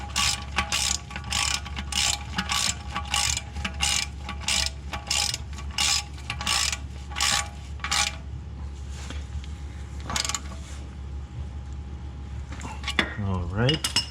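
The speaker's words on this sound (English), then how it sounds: "And we'll hand tighten the oil plug." Ratchet wrench tightening the oil drain plug on a 2002 Ford Focus during an oil change: a long run of quick, evenly spaced clicking strokes up close, pausing, then a short final burst and a whirring spin at the end.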